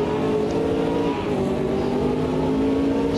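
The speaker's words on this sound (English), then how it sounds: "Got some oomph, that Ferrari." Engine of a Ferrari 330 P4 race car in the racing game Automobilista 2, a loud, sustained harmonic engine drone holding a steady pitch at close range, with no talking.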